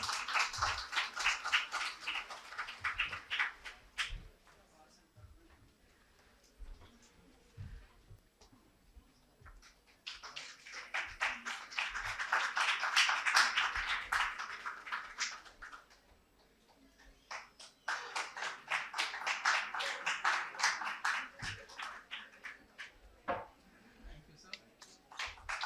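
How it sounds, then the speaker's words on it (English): An audience applauds at the Bolo English Excellence Awards 2024 ceremony. Dense clapping comes in three long swells, dies down between them, and stays loud and continuous within each burst. "Can we again have a huge round of applause?"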